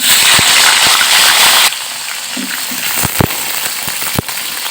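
Cauliflower florets dropped into hot oil after potatoes were fried, giving a loud, dense crackling sizzle that drops to a softer steady hiss partway through, with scattered sharp pops.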